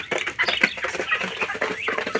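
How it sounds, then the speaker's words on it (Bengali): Several chickens cluck and chatter close by, a busy, continuous run of short clucks and squawks with no talking. "বড় বড় হয়ে গেছে আমাদের মুরগিগুলা"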